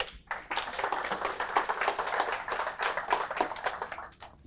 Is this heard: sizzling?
no